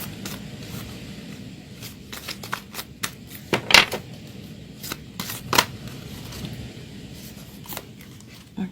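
A deck of goddess oracle cards is shuffled by hand close up, with quick irregular riffles and flicks and a few sharper bursts of card slaps, and no voices.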